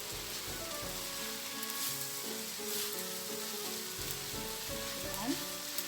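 Bihon noodles and cabbage hiss and sizzle steadily in a hot pan as they are stir-fried, with a continuous close crackle and faint scraping of the stirring.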